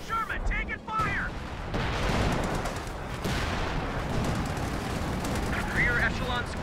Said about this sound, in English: The artillery piece has gone up here in base.